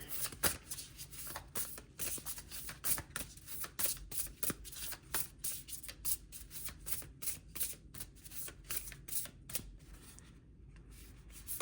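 A deck of cards, apparently for a card reading, is shuffled by hand in quick, rhythmic riffling and snapping bursts for about twelve seconds, close and crisp, with no talking.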